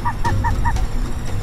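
Geese honking repeatedly in a quick run of four calls over steady background noise, at a busy bird roosting and breeding site at the mouth of the Rio Araújo in São José.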